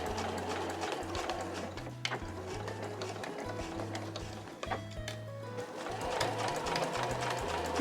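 Domestic sewing machine stitching a reversible drawstring tote bag, running in short back-and-forth bursts as it backstitches, with brief pauses between the rhythmic needle runs.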